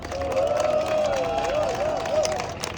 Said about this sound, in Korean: 여러분 두 분께 다시 한번 큰 박수 부탁드립니다